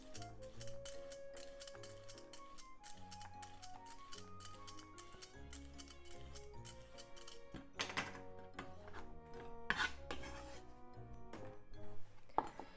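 Rapid, steady knife taps as a carrot is cut into very thin diagonal slices on a board, crisp clicks running throughout beneath prominent background music.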